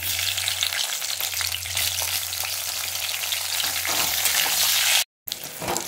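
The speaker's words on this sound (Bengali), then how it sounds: "বেগুনটা আমি লাল লাল করে ভেজে নিয়েছি।" Eggplant pieces fry in oil, a loud, close, continuous sizzle with faint stirring, cutting out for an instant near the end before resuming.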